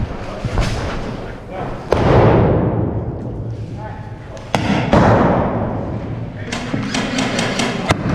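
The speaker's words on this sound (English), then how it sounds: "Another grenade out." A grenade going off during a milsim airsoft operation, with two loud close thumping blasts and a long rumbling decay, among outdoor noise and voices talking.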